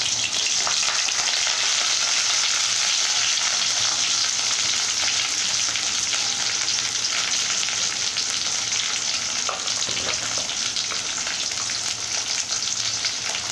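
Sliced onion and curry leaves fry in a pan with a steady, loud sizzle that runs unbroken throughout, close by and with no talking.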